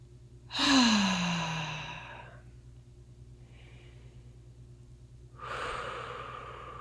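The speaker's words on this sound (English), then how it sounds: "take a nice deep breath" Deep breathing during a relaxation exercise: one long, loud sighing inhale-exhale, a quiet pause with faint steady hum, then another breath beginning near the end, close to the microphone with no talk.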